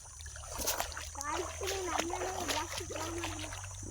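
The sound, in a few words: footsteps splashing through floodwater covering the road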